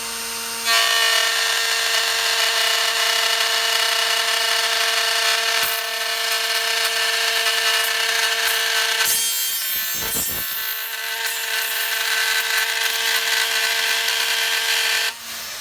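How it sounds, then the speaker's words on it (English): A loud, steady router whine grinds continuously through an oak stair tread guided along a template, with a brief shift in tone midway before carrying on to a sudden stop. "when the router gets to the oak"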